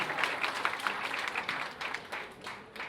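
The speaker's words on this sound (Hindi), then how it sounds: "अहिंसा धाम के लिए जोरदार तालियां बजा के इनका अभिनंदन करें।" An audience at a Diwali celebration claps together in a fairly quiet, sustained patter of applause, with individual claps audible across the crowd and no voices.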